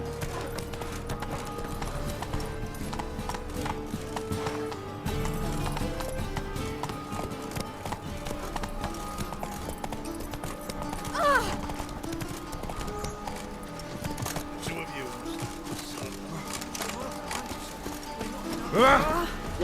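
Roach, Geralt's horse in The Witcher 3 video game, gallops in a fast, steady clip-clop of hooves against game music, with a rider's voice calling out and a couple of brief louder swells.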